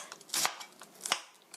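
A knife julienning half an onion into thin strips about 0.3 cm wide, with a few quick, crisp cuts against the board spaced irregularly across a short stretch, close and fairly quiet.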